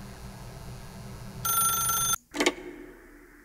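An electronic phone ring sounds in The Stanley Parable video game, then cuts off abruptly as the receiver is picked up with a short clatter, leaving a quiet line hum.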